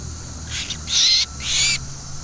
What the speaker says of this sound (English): Is it a sparrow? Yeah.